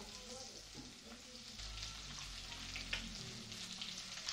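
Amla (Indian gooseberries) frying in oil with asafoetida and grated ginger for a sweet-sour-spicy pickle, a steady close sizzle with a few stirring clinks and scrapes, no voices.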